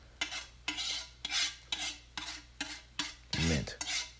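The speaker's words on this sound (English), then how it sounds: "We're gonna stir this together to the best of our ability." Chicken fried rice is stirred in a frying pan, giving about eight rhythmic scraping strokes of utensil against the pan, evenly spaced and fairly close, with no talking.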